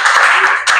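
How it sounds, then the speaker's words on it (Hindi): A school class bursts into loud, brisk clapping that fills the room, with a brief dip before the hands pick up again. "जोरदार ताली हो इनके लिए"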